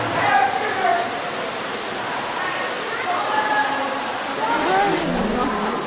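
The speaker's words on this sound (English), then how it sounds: "This is the water from the falls here." Water from an underground waterfall in the Ruby Falls cavern rushes in a steady, moderate hiss that echoes through the cave, while a person talks over it.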